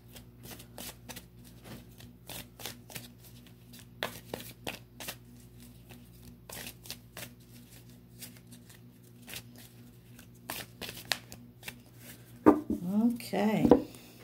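Tarot cards being shuffled by hand, a run of quick crisp riffling flicks in irregular bursts, close and clear, with a short rustle and handling noise near the end.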